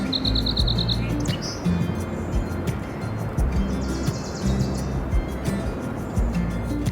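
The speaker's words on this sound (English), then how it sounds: "birds chirping" Birds chirp and tweet in quick bright bursts over a steady low rumble of crashing waves on the Oregon coast, with a short rapid trill near the start.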